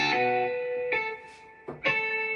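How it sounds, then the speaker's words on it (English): Gibson 335 guitar patch with clean overdrive played on an MPC Key 37: three sustained, harmonically rich chord strikes, each ringing out and decaying before the next, clear and alone. "That's more of a clean overdrive."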